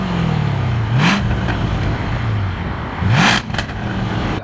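A large-engined luxury car, once a $105,000 model, revs its exhaust with the baffles open, giving two sharp, loud blips over a rumbling idle, each rising quickly and dropping back.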